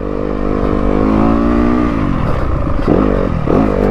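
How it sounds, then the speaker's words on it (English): A 2022 Yamaha YZ250FX dirt bike engine on mountain single track, revving loud and close with a rising, sustained buzz, then dropping off and blipping back up twice as the rider works the throttle. "really likes to be revved, so try and keep the RPMs up and let her rip"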